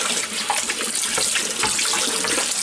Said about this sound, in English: Take that scouring brush.